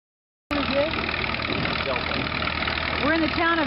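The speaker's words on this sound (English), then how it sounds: "this is a tractor pull, antique tractor pull contest" An antique tractor engine idles at a tractor pull contest in Delta, Colorado, starting abruptly with a steady, close, chugging rumble while people talk over it.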